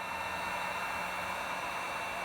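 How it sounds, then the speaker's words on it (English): A heat gun strapped to a pole blows air through brass and copper pipe into a drained vintage Honda motorcycle tank, giving a steady, even hiss of rushing air throughout. "It's just a heat gun strapped to my fuel bottle pole, and it blows the air into this brass and copper pipe."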